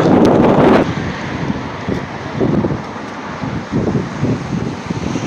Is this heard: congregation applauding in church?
no